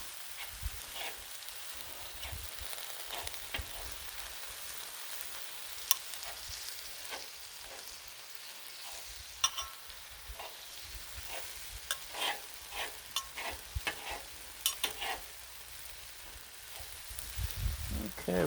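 Cheesesteak meat sizzles quietly on a hot griddle as a knife cuts it apart, giving a soft steady hiss with sharp scraping clicks and taps.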